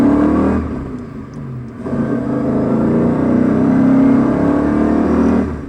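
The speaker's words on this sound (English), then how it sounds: "Listen to the excited song of a BMW engine as it accelerates." A BMW car engine revs up and accelerates, its tone rising steadily and loud, with a brief dip before climbing again to a sustained roar.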